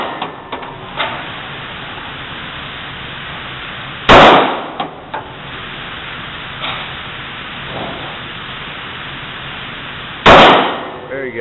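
Handgun shots at an outdoor shooting range, two loud sharp cracks spaced several seconds apart, with quiet instructor talk and faint range noise in between.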